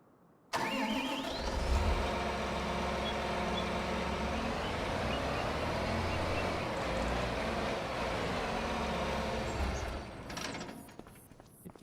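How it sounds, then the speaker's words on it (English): A tractor engine in Farming Simulator 25 starts up and settles into a steady, rumbling mid-pitched idle that holds for around ten seconds before trailing off. "we're gonna pull this tractor out too"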